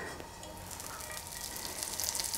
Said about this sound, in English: Now we'll add a little bit of butter to the hot skillet.